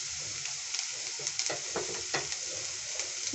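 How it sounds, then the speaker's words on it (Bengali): Chopped green chillies fry in oil for Maggi, a close steady sizzle with scraping stirs and light spatula taps against the pan, no voices. "ওটা একটু ফ্রাই করে নেব।"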